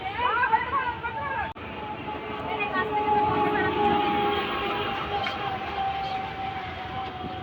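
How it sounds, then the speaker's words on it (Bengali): A toy train approaches, its drawn-out tonal whistle or horn ringing steadily over a busy outdoor background while several people chat nearby. "এই টয় ট্রেন আসছে"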